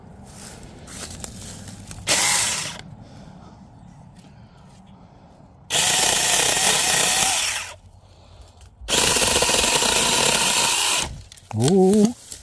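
A chainsaw on a tree-service job in Southern California roars in three loud, sustained cutting bursts separated by quieter gaps, then gives a short revving burst at the end.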